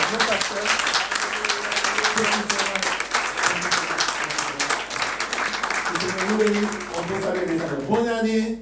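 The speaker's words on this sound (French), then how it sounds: "Applaudissons au Seigneur pour glorifier son nom." Church congregation clapping steadily throughout, with voices and sung or spoken tones running over the applause and a brief louder vocal at the end.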